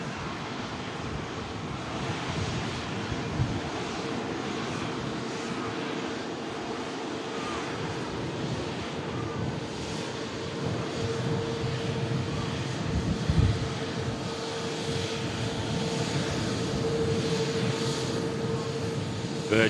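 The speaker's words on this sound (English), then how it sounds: "Virgin Atlantic Airbus A350 1000, looking 10 out of 10 here at the Runway Visitor Park, Manchester Airport" A Virgin Atlantic Airbus A350-1000 airliner at Manchester Airport's runway visitor park gives a steady, distant jet roar blended with wind, constant and broad over about twenty seconds with no talking.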